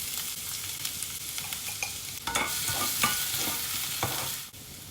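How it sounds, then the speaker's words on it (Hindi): Finely chopped onion sizzles in oil in a pan for paneer biryani, a continuous close frying hiss broken by repeated spoon scrapes and stirring clatter, without any voices. "अब इसमें हम 2 टेबलस्पून बारीक कटा हुआ प्याज डाल रहे हैं।"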